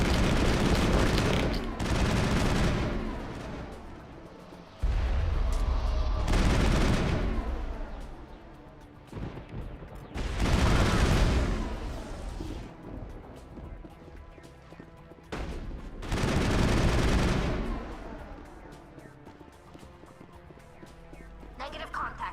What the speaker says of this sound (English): There must be a way to shut that gun down.